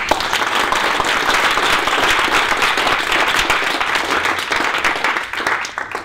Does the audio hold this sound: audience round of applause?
yes